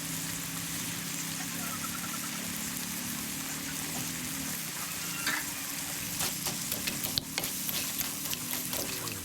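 Freshwater snails (spotted babylon) being stir-fried in a pan, a steady close sizzle with scraping and clattering from stirring that grows busier toward the end, alone with no talking.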